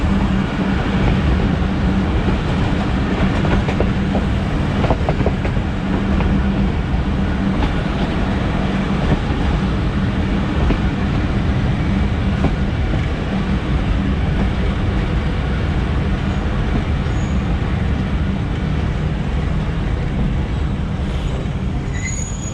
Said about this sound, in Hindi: यहाँ पे हमारी क्रॉसिंग होने लगी है 40 डाउन जाफ़र एक्सप्रेस से